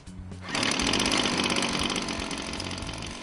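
ECHO gas leaf blower engine firing up after a pull start, a sudden loud surge into a rough, rapidly pulsing two-stroke roar that holds steady nearby.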